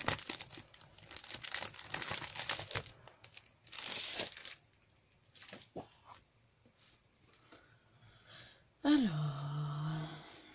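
A sheet of beige background cardstock is handled, giving bursts of crisp crinkling and rustling that thin out into sparse soft touches, followed by a short rising tone and a hum near the end.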